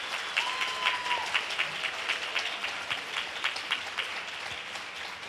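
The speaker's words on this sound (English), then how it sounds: "Give everybody a round of applause because you guys were outstanding this year." An audience at a neighborhood poster contest award ceremony gives a round of applause, with sustained, dense clapping from a roomful of people that holds at an even level for several seconds.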